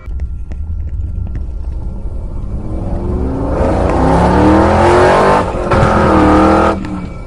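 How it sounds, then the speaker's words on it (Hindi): Motorbike ridden fast, its engine roaring and rising in pitch as it speeds up, loud and close for several seconds with a brief dip before revving on, no talking over it. "रॉड बाइक को काफी तेज भगाता है"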